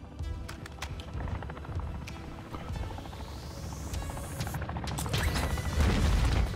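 A helicopter arriving in the Warzone 2 video game, a rapid rotor chop and mechanical whir that steadily grows louder and nearer, mixed with other game sounds.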